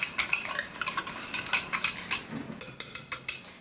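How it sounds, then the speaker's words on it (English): A utensil stirs a freshly thickened, upcycled foot scrub mixture with added neutralizer in a container. It makes rhythmic scraping and clinking strokes, close and fairly loud, with no talking. "So give that one a good stir just to make sure the neutralizer is properly dispersed."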